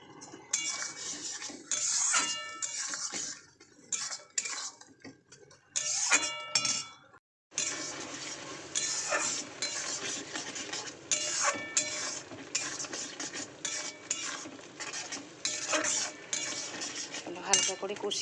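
Mustard paste and fish being sautéed in a pan, heard mostly as repeated clinks and scrapes of a metal utensil against the pan, in uneven bursts with a brief pause midway.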